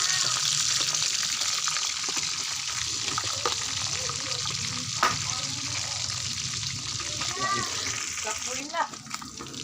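Food crackling and sizzling steadily in hot cooking oil in a pan, a close, continuous hiss with occasional pops, while a person talks over it.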